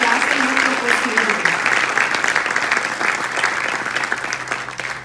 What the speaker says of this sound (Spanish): un fuerte aplauso a nuestros padres, a nuestros familiares